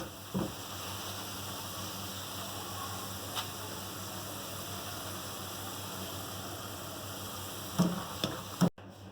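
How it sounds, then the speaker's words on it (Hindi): French fries bubble and crackle in hot oil for pizza fries, a constant close sizzle with a few louder pops and stirring knocks toward the end. "फ्राइज़ हमारे फ्राई हो चुके हैं। अब हम इन्हें निकाल लेंगे।"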